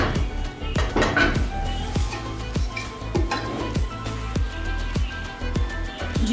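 Metal lid lifted off a pot of chicken biryani after steaming, with repeated clinks and clatters of pot and utensils over background music.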